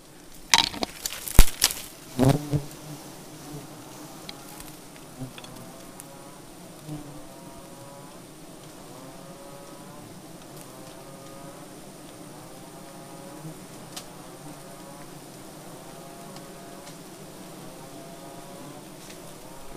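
Bees humming around an acacia honey nest, a steady, modest buzz that follows a few loud handling knocks and rustles at the start.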